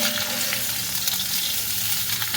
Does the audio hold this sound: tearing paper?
no